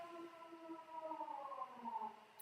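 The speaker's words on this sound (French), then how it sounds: "alors la sirène qui se lance" A civil defense siren sounds in Denmark, a steady tonal wail with layered harmonics that shifts slightly in pitch and stays fairly faint and distant for a couple of seconds.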